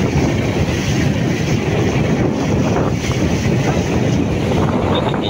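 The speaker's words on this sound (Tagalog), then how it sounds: "Baka lumakas na itong hangin mamayang gabi." Wind gusts over a boat on the sea off Surigao as the crew gets ready to anchor, a constant loud roar and rush of air with a low rumble and no break.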